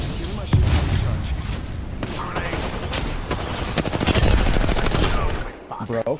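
Gunfire in the battle royale game Apex Legends, rapid bursts of automatic fire and sharp shots crackling close by in quick succession, with a player talking over the shooting.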